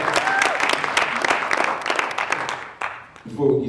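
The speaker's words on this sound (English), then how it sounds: "you can clap for that." Crowd applause at a Martin Luther King Jr. birthday celebration, a busy patter of many hands clapping that fades near the end, where a voice begins speaking.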